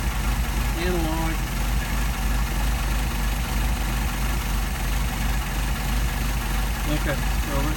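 Steady idle of a car engine with a Solex carburetor, turning roughly 600 RPM, holds an even low hum throughout, while a voice speaks briefly near the start and again near the end.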